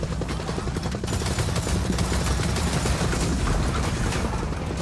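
Rapid video game gunfire crackles in a dense, continuous volley, with booming bursts layered over a steady low rumble throughout.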